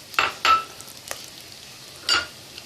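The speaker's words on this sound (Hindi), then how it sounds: "हमारा ये सौते हो रहा है" Spices sauté in a pan for Lahori chickpea curry under a low, constant sizzle. A spatula scrapes through them in a few distinct strokes, two close together early on and another a moment later.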